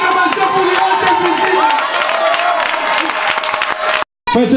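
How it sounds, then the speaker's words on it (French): Congregation at a church wedding service clapping and cheering together, a loud crowd with shouts and whoops over the applause, broken by a brief dropout near the end. "Donnons des acclamations pour les hôtes"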